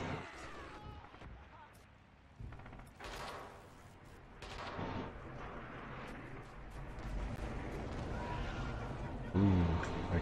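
Artillery fire from the Red Orchestra 2 hangar skirmish, with repeated distant booms and rumbling explosions building through the clip over a steady battlefield din, under occasional talk.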